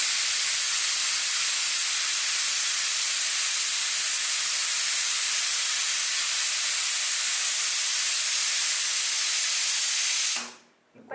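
A pressure cooker cooking plantain pith soup vents steam in a loud, continuous hiss that holds steady for about ten seconds and then cuts off abruptly, with no speech.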